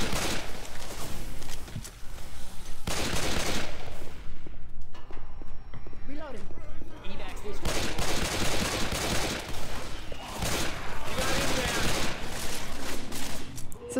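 Assault rifle gunfire in the zombie shooter Left 4 Dead 2, dense loud bursts of rapid shots in repeated volleys with brief pauses, mixed with other game noise.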